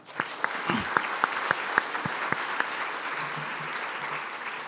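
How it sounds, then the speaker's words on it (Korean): Welcoming applause from a church congregation during a Sunday service, steady clapping from many hands sustained throughout with a few sharper claps standing out near the start. "우리 인사할 때 환영의 박수 드리겠습니다"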